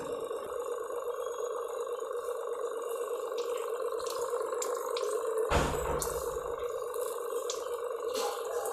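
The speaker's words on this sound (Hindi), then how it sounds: "आप देख सकते हैं पानी धीरे धीरे आना शुरू हो गया है और इसका रफ्तार बढ़ रहा है" Water runs steadily from a Kent Pearl RO water purifier that has had a shutdown fault, with a low continuous flow and a faint hum. A single brief knock sounds about midway.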